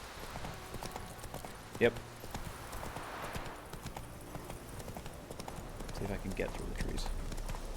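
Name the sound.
horse Roach's hooves galloping, from video game The Witcher 3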